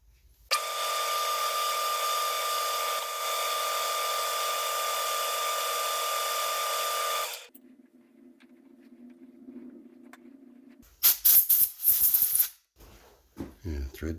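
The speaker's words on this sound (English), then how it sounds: "I'm just gonna drill it and tap it for 1024" A drill bores a hole for a 10-24 tap in a lathe fixture, a loud steady whine for about seven seconds, then a quieter low hum, then a burst of sharp clattering knocks near the end.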